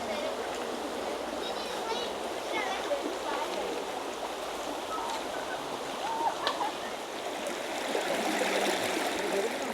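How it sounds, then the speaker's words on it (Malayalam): A stream runs through dense forest in Pathanamthitta, a steady broadband rush of flowing water heard close and continuous, with faint voices in the background. "കാടിൻ്റെ നടുക്കൂടി ഒഴുകുന്ന അരുവി"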